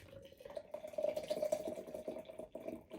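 A quiet stream of beer poured hard, straight into a glass, with soft gurgling and fizzing that rises and falls over a few seconds.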